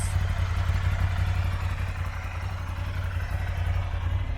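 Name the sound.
2019 Ducati Scrambler Icon motorcycle idling, stock exhaust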